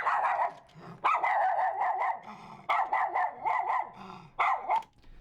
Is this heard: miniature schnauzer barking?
yes